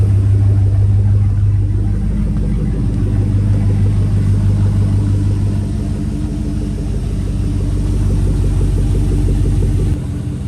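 Outdoors, a Chevy Silverado 5.3 V8 fitted with a Carven R catback exhaust idles close by with a steady deep burble, swelling briefly in a mild rev before settling back to a smooth, moderately loud rumble.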